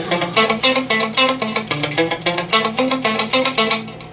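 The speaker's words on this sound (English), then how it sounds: "If you get the delay set right, it'll sound like this." An electric guitar picks a riff through a delay effect, with quick plucked notes echoing in a rhythmic, shimmering pattern, played alone.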